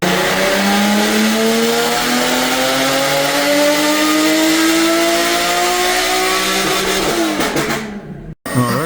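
A supercharged Infiniti FX35 V6 revs hard on a dyno, its tone climbing steadily under full load with a rising supercharger whine, loud and close, then backing off abruptly near the end.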